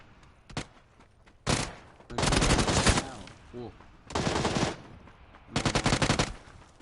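Automatic gunfire in PUBG: several loud, close bursts of rapid shots separated by short pauses, with a few isolated single shots in between.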